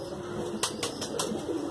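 A high-flyer pigeon coos softly at close range, a few low murmuring calls under steady background hiss, with several sharp brief clicks or wing-flutter bursts in the middle.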